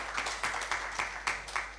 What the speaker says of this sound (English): Another round of applause for Geoffrey